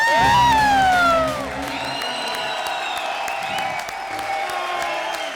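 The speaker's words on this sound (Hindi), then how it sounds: "बजाओ रे बजाओ, तुम भी ताली बजाओ" Studio audience at a Holi-themed comedy show clapping and cheering with whoops, a loud burst up front settling into sustained crowd noise, with music and voices mixed in.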